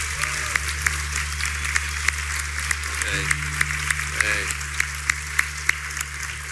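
Church congregation applauding in thanks to God at an anniversary service, steady broad clapping with sharper individual claps standing out, over a persistent low hum, with brief voices murmuring partway through.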